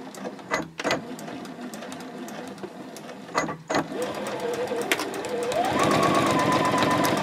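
A sewing machine stitches a seam on a fabric composition notebook cover at a 2.6 stitch length, starting with short bursts of stitching, then running steadily and speeding up to a rapid, continuous whir.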